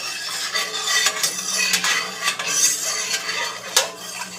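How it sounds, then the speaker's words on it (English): Continuous scraping and clinking of a spoon stirring sugar into fruit juice in a container, with repeated light taps against the sides, steady and close. "We're going to get this well stirred. Make sure all the sugar is dissolved."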